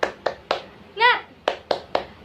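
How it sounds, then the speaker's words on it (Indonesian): A school class does a rhythmic spirit clap, sharp group claps in a quick patterned beat, broken once by a short burst of children's voices in the middle. "Sekali lagi ya. Tepuk semangat."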